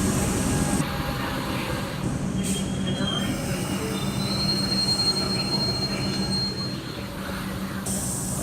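Wheels squeal steadily beneath the rumble of a city-bound commuter train carriage in motion, with a continuous loud roar throughout and shrill high tones rising and falling.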